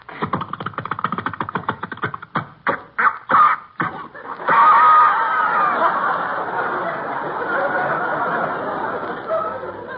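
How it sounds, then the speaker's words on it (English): A small pull-started home power plant engine coughs and sputters in short irregular bursts, then catches and runs with a steady, raspy drone. "Just wind the rope around the flywheel, thus, and pull."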